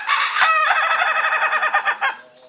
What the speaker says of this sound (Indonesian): Salah satu ayam jago yang paling dipercaya pembawa keberuntungan adalah ayam tertawa.